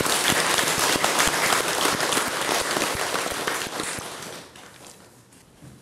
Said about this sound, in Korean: 우리 모든 분들을 위해서 큰 박수 한번 부탁합니다.